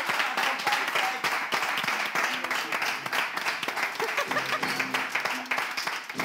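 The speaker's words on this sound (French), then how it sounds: "Sinon, nous-mêmes, on va applaudir" A small group of people applauds with scattered, uneven clapping, and a few voices talk over it.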